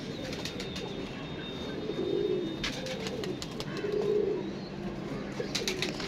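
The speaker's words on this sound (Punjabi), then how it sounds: "ਕਬੂਤਰ ਨਾਯਾਬ ਛੱਡ ਦਿਓ ਜੀ" Pigeons coo in soft, low, repeated phrases at a rooftop pigeon loft, with faint chirps and occasional wing flutters over a light background hum.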